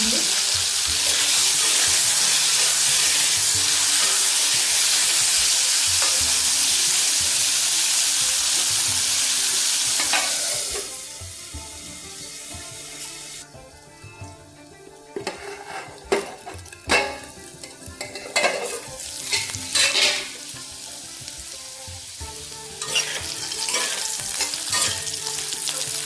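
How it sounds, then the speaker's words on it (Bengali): Bitter gourd pieces fry in hot oil in a pan in a home village kitchen, first as a loud steady sizzle, then quieter sputtering broken by clinks and scrapes of stirring. "কিন্তু আমি এখানে ভেজে নিচ্ছি।"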